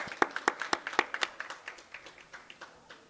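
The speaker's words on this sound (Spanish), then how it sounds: "Eso, un fuerte aplauso." A small group claps together at a school graduation ceremony, the sharp hand claps strong and synchronized at first, then thinning into scattered, fading claps over about three seconds.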